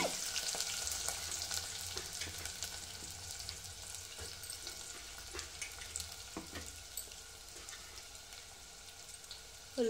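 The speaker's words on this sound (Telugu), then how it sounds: "పాన్ పెట్టుకొని ఆయిల్ అయితే పోసుకున్నాను. సో ఇప్పుడైతే ఉల్లిపాయలు వేయించేస్తాను." Onions frying in oil in a pan give a steady, close sizzle with faint stirring scrapes throughout, no voices.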